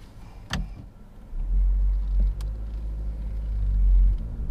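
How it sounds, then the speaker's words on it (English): A 2014 Chevrolet Cruze 1LT on a road test, its engine and road rumble rising into a steady, close drone after a brief click and thump near the start. "So now it's time for a test drive."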